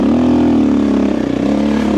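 Motorcycle fitted with a Dobeck EJK and a Fastway ProMoto billet end cap, pulling in fourth gear: a loud, steady engine drone rising slightly in pitch, heard close up over two seconds.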